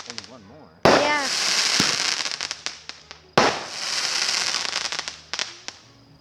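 Canada Day backyard fireworks go off at close range: two sudden loud bursts, each followed by a long crackling fizz and scattered pops as they fade, with a whistling rise before the first.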